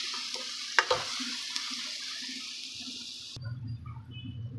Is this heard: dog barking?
no